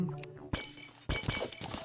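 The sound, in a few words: pots shattering in Terraria video game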